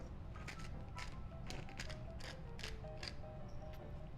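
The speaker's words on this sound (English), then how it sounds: "Going to grind some black pepper." A pepper grinder cracks black pepper in a run of quick, rhythmic gritty crunches and ratcheting clicks, close and fairly quiet, with no talking.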